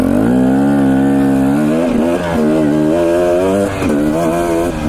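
Enduro motorcycle climbing a high trail in Idaho, its engine loud and close, holding a steady drone that rises and falls with shifts and throttle changes throughout.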